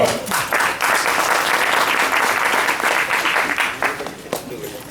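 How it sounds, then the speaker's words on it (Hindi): An audience at a natural farming training session applauds loudly and continuously for several seconds, with crowd voices mixed into the clapping. "ताली में भी कंजूसी"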